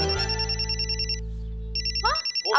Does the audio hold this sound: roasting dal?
no